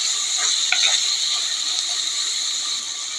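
Native country tomatoes sautéing in a pan for drumstick-and-onion kuzhambu, a steady close sizzle with a few brief stirring scrapes early on, no talking.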